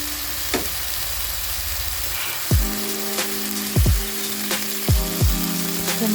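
Spices frying in a pan for prawn curry with pumpkin, a soft steady sizzle joined by several sharp knocks and clinks of a utensil against the pan, no talking.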